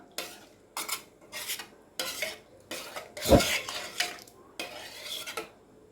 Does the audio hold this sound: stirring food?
yes